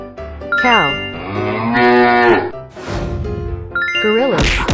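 A cartoon cow moos in a long, loud, wavering call from a kids' animal painting game, set among music and other effects.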